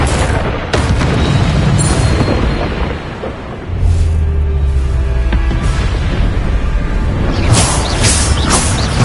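Bombarda spell explosions boom loudly in the video game Hogwarts Legacy, heavy blasts layered over dense battle noise, with a lower rumbling stretch in the middle and sharper bursts near the end.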